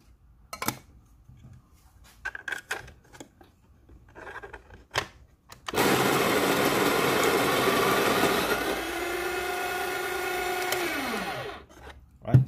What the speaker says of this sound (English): So let's say let's use the smart grinder pro, right? Again, let's grind some beans.